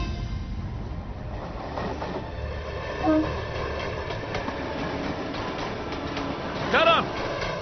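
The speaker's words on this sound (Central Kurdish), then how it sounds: "ئاگدار بە شەمەندەفەرەکە دەڕوات" Train in a railway station scene in a drama, rumbling steadily with a couple of brief squeals and clanks, with no talk over it.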